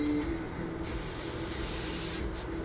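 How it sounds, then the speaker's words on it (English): A steady, close hiss of an airbrush spraying yellow paint, continuous throughout with a brief surge in the middle and a short dip near the end. "It's definitely spraying yellow."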